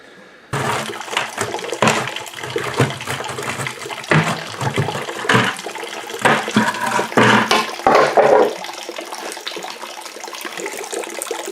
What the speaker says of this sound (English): we're draining the radiator now.